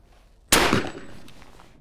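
A single shotgun shot fired at a clay target during skeet shooting, one sharp close blast followed by a short decaying outdoor tail.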